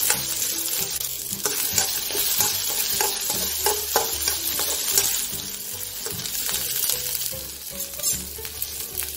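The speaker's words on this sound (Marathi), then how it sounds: "कांदा ब्राउन कलर होईपर्यंत फ्राय करायचा आहे।" Onion fries in a pan until brown for a spicy Maharashtrian sev bhaji, a loud continuous sizzle broken by frequent spoon scrapes and clinks against the metal.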